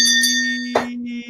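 A stand bell struck once, giving a clear, sustained metallic tone that rings steadily throughout, with a brief dull knock partway through and no voices.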